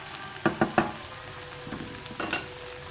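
Okra (bhindi) fries in a pan for a spicy Sindhi dish: a soft, steady sizzle runs underneath while a few quiet clacks and knocks of stirring break in, with no voices.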